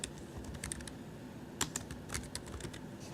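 Rapid, irregular clicks of fingers typing on a computer keyboard, close and crisp with uneven little bursts of keystrokes and no voices.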